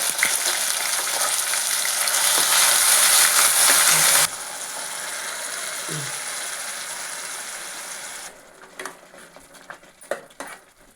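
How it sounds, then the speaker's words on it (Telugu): Loud, crackling spatter of mustard seeds popping in hot oil, dense and continuous at first, then quieter sizzling with scattered clinks of a utensil. "ఉద్దిపప్పు ఆవాలు వేసుకుంటున్నాను ఆవాలు ఎగినాయి కరివేపాకు వేసుకున్నాము"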